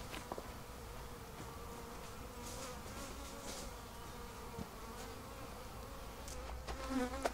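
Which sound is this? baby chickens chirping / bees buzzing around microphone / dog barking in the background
bees buzzing around microphone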